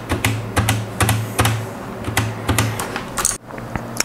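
An Akko mechanical keyboard with brown switches is typed on hard and fast, giving dense, loud clacking keystrokes in an uneven rhythm with a low hum beneath, close up and without speech.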